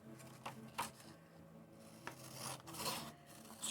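Paper is creased and folded into an envelope at close range, a quiet series of dry rubs, crinkles and short rasping strokes with brief pauses between them.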